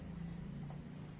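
Steady scratching of writing on a board during a lesson, soft and continuous over a low constant hum, with no talking.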